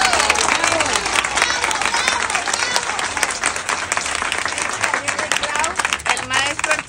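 Sustained audience applause at a school gathering closing a clown workshop, honoring the teacher Arturo; dense, steady clapping mixed with crowd voices fills the whole stretch without pause.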